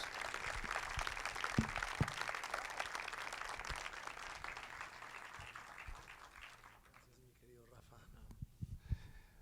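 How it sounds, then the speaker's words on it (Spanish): Strong, dense applause fills a church crowd welcoming a pastor to the stage, steady and loud for several seconds before thinning out, with a few scattered claps and murmurs at the end. "les voy a pedir con un fuerte aplauso"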